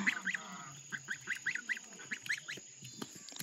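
A young goose honks repeatedly in short, nasal, rhythmic calls at close range, a steady string of squawks over a quiet background with no talking.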